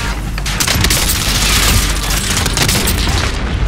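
In the Warzone video game, a sniper rifle shot lands as a heavy boom inside a dense, loud wash of gunfire and battle noise that stays steady throughout.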